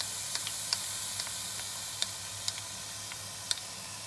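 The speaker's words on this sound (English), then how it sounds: "So we've heated the wok, and to it we're adding our soy sauce" Soy sauce sizzles in a heated wok as a steady, close hiss with scattered light ticks and pops crackling over it.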